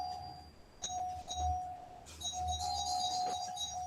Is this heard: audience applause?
no